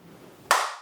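A single loud hand clap, sharp and close, cracking out of near silence and ringing briefly in the room as it fades.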